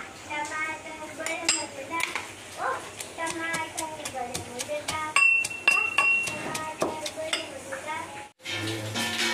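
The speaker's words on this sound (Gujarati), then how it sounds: "હવે લસણ અને મરચાંને આપણે ખાંડણીમાં નાખીને ખાંડી લઈશું." Garlic and chillies with salt pounded in a mortar, sharp hard knocks in an uneven rhythm, close and clear, while someone talks over the work.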